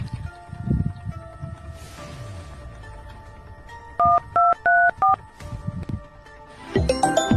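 Telephone keypad dialing tones: a quick run of about five evenly spaced beeps at mid-clip, loud and clean over quiet background rustle, with a brief ringing tone near the end.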